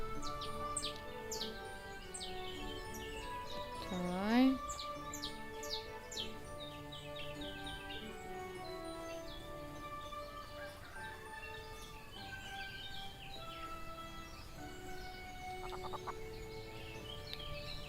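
Cartoonish chicken clucks and bird chirps sound in the farming video game Everdream Valley, faint and repeated over a soft bed of game music.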